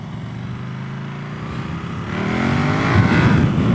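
A KTM Super Duke motorcycle pulls away hard, its engine note climbing steadily in pitch and growing louder as it accelerates, close and alone.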